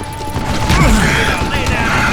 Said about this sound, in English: Hold me off while I reload!